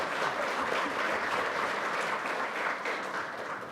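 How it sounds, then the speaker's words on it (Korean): An audience at a National Assembly policy forum on converting firefighters to national civil servants applauds steadily and loudly for the whole stretch, a dense wash of many hands clapping that eases slightly toward the end. "좋은 토론을 해주신 이영주 교수님께 다시 한번 박수 부탁드리겠습니다."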